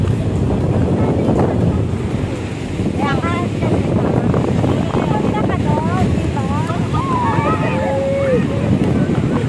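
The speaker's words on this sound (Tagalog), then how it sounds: "ang taas ng alon" Large ocean waves at Bagasbas beach roar and churn steadily alongside gusting wind noise, with a few birds chirping faintly in the background.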